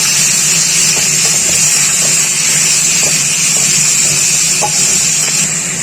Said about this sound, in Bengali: তো টমেটোগুলোকে এখন আমি একটু ভাজা ভাজা করে নেবো